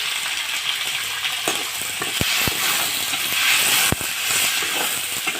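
Tomatoes hit a hot pan of ridge gourd curry, starting a loud continuous sizzle with a few sharp clicks of a spoon against the pan as they are stirred.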